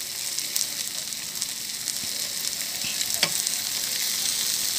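Egg mixed with bitter gourd (ampalaya) stir-frying in a pan, a steady bright sizzle with scattered soft scrapes and taps of stirring, no talk.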